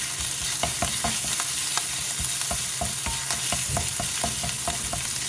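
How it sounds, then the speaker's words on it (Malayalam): Crushed ginger sizzles in coconut oil over a low flame, a steady hiss punctuated by regular clicks and scrapes of a spoon stirring in the pan, close and with no talk. "ഇനി ഇതിലേക്ക് ഇഞ്ചി ചതച്ചത് ചേർത്ത് വെക്കാം"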